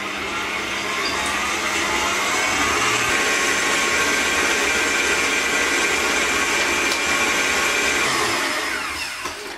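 An electric mixer beats butter at high speed, giving a loud, steady, unbroken whirring roar that runs the whole time with no talking.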